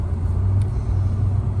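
A truck engine idles steadily on a snowy winter storm morning, a continuous loud low rumble with no talking and no change in pitch.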